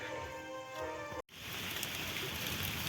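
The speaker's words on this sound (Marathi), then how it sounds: "इकडे पाऊस पडतो आहे खूप" Early monsoon rain falls on a farm where pits have been dug for planting fruit trees. It makes a dense, steady patter that fills the clip after a brief cut, with faint tonal hum and ticking before the break.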